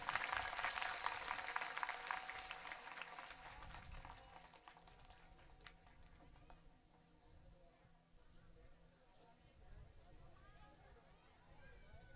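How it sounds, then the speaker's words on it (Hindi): Clapping from a crowd at a religious gathering at a temple shrine, strongest at the start and then fading into a quieter, scattered patter, with distant voices and background noise running underneath. "जरा जोरदार ताली बजाई जाए"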